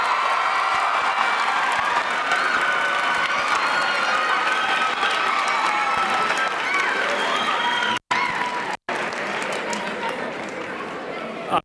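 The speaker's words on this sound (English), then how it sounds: "I'm so glad you all applauded" Audience applause and cheering at a high school grade 11 information evening, a loud sustained wash of clapping and crowd noise with voices mixed in, cutting out briefly near the end.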